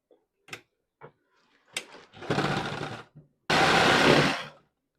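A sewing machine stitches a folded border strip onto a quilt made from old sarees, giving two close bursts of rapid stitching after a few soft clicks and handling taps.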